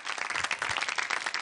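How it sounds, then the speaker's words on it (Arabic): A live comedy-show audience gives a short burst of dense, warm applause, many hands clapping together loudly and close for just over a second. "تصفيقة حارة على كابوتشينو"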